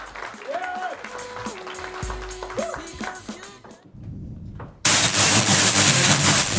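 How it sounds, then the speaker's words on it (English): At a theater event, a theater audience breaks into loud, dense clapping and cheering noise that suddenly swells in near the end, right after a stretch of sung or spoken voice and a brief lull. "So clap your hands right now."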